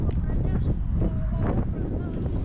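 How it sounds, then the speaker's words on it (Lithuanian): Cold northwest wind blows outdoors, buffeting the microphone with a steady loud rumble and gusts throughout. "Vėjas pūtė man į plaukus"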